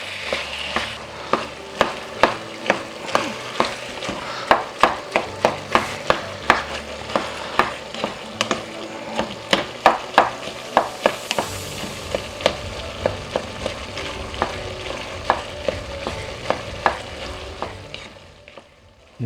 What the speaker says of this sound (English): continue sauteing it and cook the meat until it browns